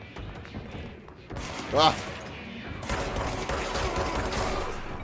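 Gunfire in the video game Control, bursts of shots at moderate level behind a man who cries out and talks, with a sharp rising tone midway and steady rattling later.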